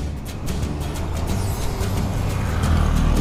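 A bore-up motorcycle engine fitted with a new silencer exhaust runs steadily close by with a loud, continuous rumble, its level rising slightly near the end.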